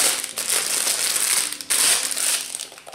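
Plastic packaging around a flat hairbrush from a beauty box crinkles and crackles steadily up close, with a few louder rustling bursts and no talk.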